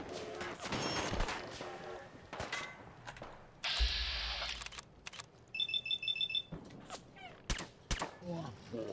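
Gunfire crackles in Fallout 4, with sharp, close shots and a rapid burst among the game's mechanical noises and a ringing alarm-like tone, while a voice speaks at points.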